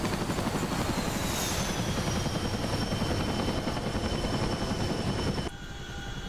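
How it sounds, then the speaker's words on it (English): A CH-47 Chinook helicopter in the DCS flight simulator gives a loud, steady rotor and turbine roar with a high engine whine. It holds constant and then drops off abruptly near the end. "We're doing some Logi runs in the Chinook and then we're going to get in an Apache."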